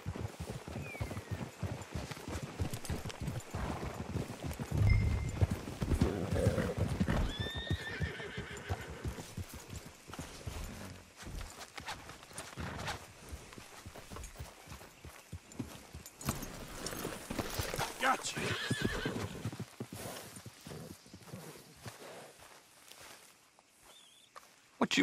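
Horses clop along at a steady walking pace in the video game Red Dead Redemption 2, with a couple of whinnies and scattered rustling, fairly quiet and with no talk.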